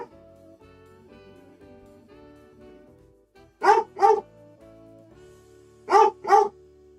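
Pet dog barks in two quick pairs of loud, close yips over a quiet background of soft game music.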